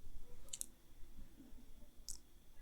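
Two faint, sharp mouse clicks on a website, spaced well apart over quiet low room noise.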